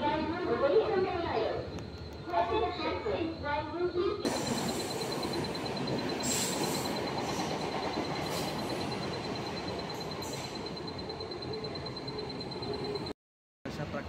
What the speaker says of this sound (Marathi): अशा प्रकारे मला ट्रेन मिळाली आहे गोरेगाववरून.